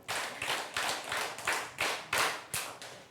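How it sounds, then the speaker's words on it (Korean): A church congregation claps in unison seven times, each clap a sharp broadband burst spaced at a steady, moderately quick rhythm, fairly loud and close. "박수 한번 7번 쳐볼까요?"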